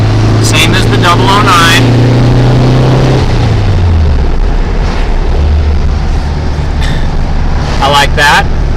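An 1800 engine with a 009 distributor revs up to about 5,000 RPM, its loud close drone rising in pitch and then settling, with brief vocal sounds over it.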